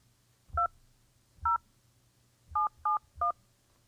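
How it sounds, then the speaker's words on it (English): Five telephone keypad tones are entered as a church code on a phone line, with short clean beeps spaced unevenly over a quiet background and no talking. "Please enter the 5-digit church code ID."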